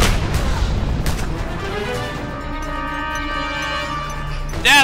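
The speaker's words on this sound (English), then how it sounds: "That's a horrible grenade." A grenade explosion in the video game Just Cause 2 opens with a heavy, loud boom that rolls out into a long ringing decay. Sharp gunfire cracks punctuate the blast, and a final burst hits at the very end.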